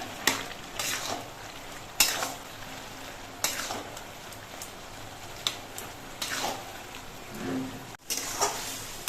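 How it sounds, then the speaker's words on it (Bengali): A spoon stirs ash gourd with cumin paste in a pan, scraping and clinking in repeated bursts over a soft background sizzle, with no talking. "এবারে এই চাল কুমড়োর মধ্যে আমি জিরে বাটাটা দিয়ে দিচ্ছি জিরে বাটা দিয়ে নেড়ে চেড়ে মিশিয়ে এনে নিতে হবে"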